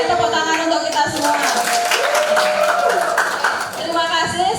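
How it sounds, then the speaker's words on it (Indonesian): An audience applauds together, a dense steady wash of clapping mixed with crowd voices and talk, loud and continuous for a few seconds. "tepuk tangan untuk kita semua"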